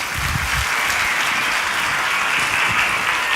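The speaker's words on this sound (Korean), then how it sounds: "여러분 뜨거운 박수로 맞아주시기 바랍니다." Church congregation giving warm applause during a Sunday service, a loud, steady, dense wash of clapping throughout, close and without talk.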